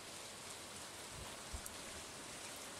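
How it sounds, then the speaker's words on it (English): Steady, faint rain hisses evenly in the Stardew Valley video game while fishing, with a couple of soft low thumps and no talk. "Fishing in the rain, hearing that, like, creepy ghost frog thing in the background."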